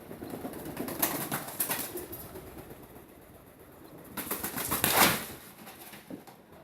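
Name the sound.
pigeon flapping wings inside a building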